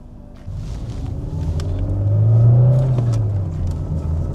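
A VW Corrado accelerates onto a dual carriageway, its engine rumbling from inside the cabin and swelling to a loud peak midway before easing back to a steady drone.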